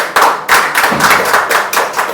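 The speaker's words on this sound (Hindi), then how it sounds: "ताली बजा के परमेश्वर" A church congregation at Sunday worship claps in unison, sharp rhythmic claps about four to five per second, loud and close, with no talk over them.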